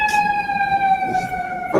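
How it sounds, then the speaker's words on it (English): A fire truck siren holds a steady wailing tone, loud and close, running continuously, with faint background voices. "I was talking about the fire truck."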